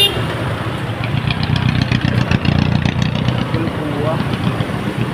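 Traffic with idling engines, a low steady rumble of cars and motorcycles close by, with people talking over it.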